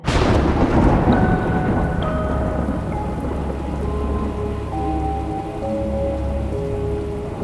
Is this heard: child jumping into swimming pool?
no